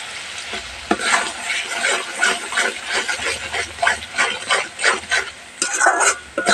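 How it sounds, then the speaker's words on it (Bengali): Spice paste (masala) being stirred and fried in a pan while cooking biryani, with a steady sizzle under repeated scraping strokes of a utensil against the pan at an irregular rhythm. "মশলাটা প্রায় কষা হয়ে এসেছে বন্ধুরা"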